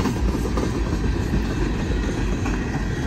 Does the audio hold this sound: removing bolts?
no